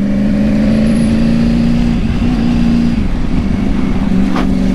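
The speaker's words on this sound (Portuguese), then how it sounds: "Essa moto nem tá barulhando muito" A motorcycle engine runs steadily at close range, a loud continuous drone with a droning low tone that shifts slightly in pitch as it rides along.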